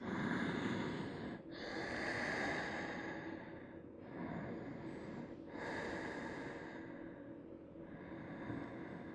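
Slow, deep breaths from someone lying face down on a yoga mat, each long inhale and exhale close and steady, about three full breath cycles with no talking.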